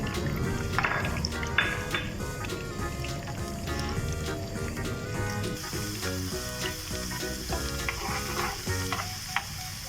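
Steady, loud sizzling of cumin seeds and whole dried red chillies frying in hot oil for tempering dal, continuous crackle and hiss with occasional stirring clinks, no talking.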